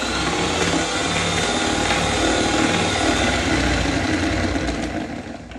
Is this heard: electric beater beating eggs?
yes